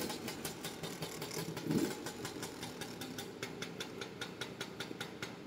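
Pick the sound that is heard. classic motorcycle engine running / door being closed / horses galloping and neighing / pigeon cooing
classic motorcycle engine running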